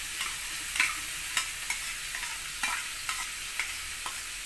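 Continuous sizzling of anchovies and green eggplant frying in a wok with intermittent scraping and clinking as it is stirred, close and steady.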